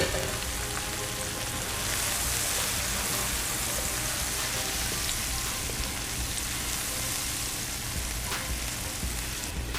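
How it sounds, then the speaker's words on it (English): Onions sizzle and crackle steadily in a cast iron skillet over medium-low heat, a dense, even frying hiss that holds at close range without letup and with no talking. "Now we're going to throw the onions in."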